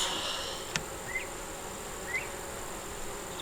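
Honeybees hum around an open long hive box in a faint, steady drone, with a few brief high chirps rising above the low background.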